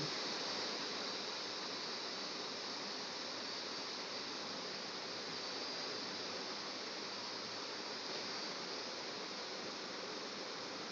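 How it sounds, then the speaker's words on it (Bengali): A mountain river in Sikkim rushing past, a dense, unbroken roar of flowing water heard steadily and evenly throughout, with no voices. "রুমে বসে সারাক্ষণ এই নদীর রিমঝিম আওয়াজ শোনা যায়"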